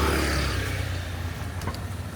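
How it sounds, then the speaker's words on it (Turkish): Cars squeeze slowly through a very narrow street in Bali, a close, continuous low engine rumble with a faint rise in revving and no talk. "sokak o kadar dar ki gördüğünüz üzere milim milim geçiyor arabalar"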